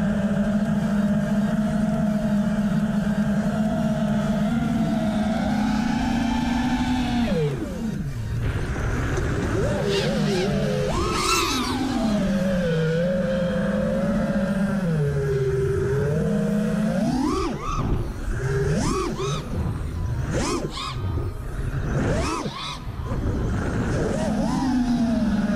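An Eachine Wizard X220HV racing drone on a 6S battery pushed to full throttle, its motors giving a loud, continuous whine that swings up and down in pitch as the throttle shifts, close and unbroken throughout.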